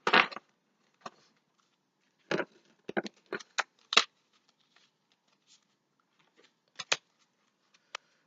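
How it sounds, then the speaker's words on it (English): Angel cards being drawn from a deck during a tarot reading, giving sparse, soft papery flicks and taps scattered across a quiet room, a few brief clusters with long silent gaps and no talking. "I'm gonna pull out a couple of angel cards for you now"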